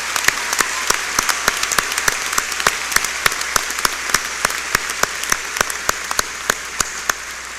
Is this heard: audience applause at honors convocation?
yes